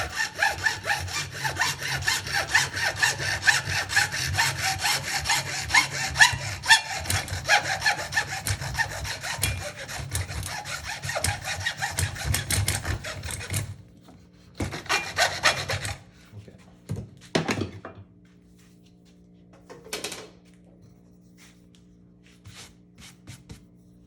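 A small fine-toothed saw cuts through material in rapid back-and-forth strokes, close and loud, then slows into a few separate rasping strokes with silent gaps toward the end.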